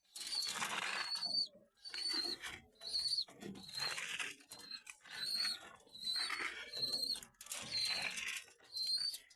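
Pigeons being fed flap their wings in repeated close bursts, with soft rustling and a few faint coos between the flurries.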